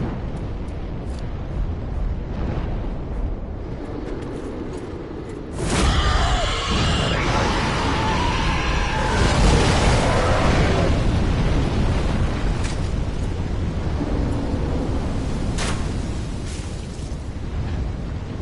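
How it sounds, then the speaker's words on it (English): Explosions burst in the game Dark Souls 3. A loud blast hits partway through and is followed by sustained rumbling roar and further booms. No voices are heard over the steady game background. "Exploding."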